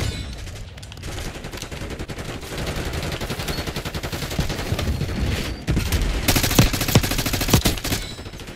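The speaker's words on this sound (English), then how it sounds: "So many damn grenades going off." Rapid overlapping explosions and gunfire from Call of Duty Black Ops 6 on the Nuketown map, with grenades bursting amid constant shooting. The sound is loud and dense for the whole stretch, with sharper blasts toward the end and no voices.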